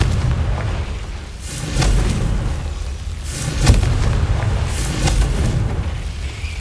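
Repeated Confringo fire-spell blasts from the Hogwarts Legacy video game, a series of deep booming explosions about every one to two seconds over a low rumbling background, the loudest burst near the middle.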